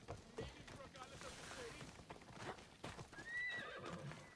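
A horse whinnies and its hooves clip-clop in the open world of Assassin's Creed Odyssey, faint and mid-distance, with the neigh rising near the end over quiet ambient game sound and a voice speaking.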